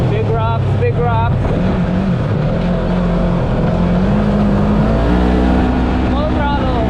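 A 2020 Polaris UTV engine at full throttle along a rocky shore, a loud continuous drone whose pitch slowly climbs as it accelerates, with a person talking over it.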